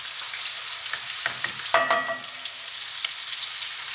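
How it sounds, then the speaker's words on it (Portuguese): A bacon stock cube fries in a hot pan, giving a steady bright sizzle with a few crackles and one sharper pop near the middle, close and with no talking. "Esse caldo aqui, ele vai quebrando aos poucos, né? Ele vai fritando aqui, cozinhando."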